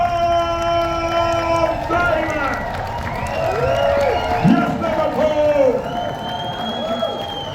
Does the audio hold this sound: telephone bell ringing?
no